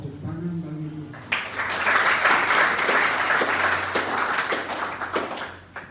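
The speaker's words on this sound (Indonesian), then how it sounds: "Tepuk tangan bagi dia." A church congregation breaks into loud, sustained applause after a brief spoken line, the dense clapping of many hands filling the room for several seconds before tapering off.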